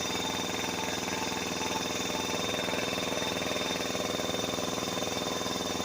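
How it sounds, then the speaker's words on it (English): An air compressor running but failing to build pressure, a loud, steady pulsing motor drone with a constant mechanical chug that holds unchanged throughout, with no talking over it. "Feels like the compressor's going, but I can hear it running."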